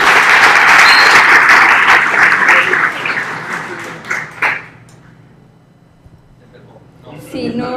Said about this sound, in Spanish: Vanessa, tu auditorio, un aplauso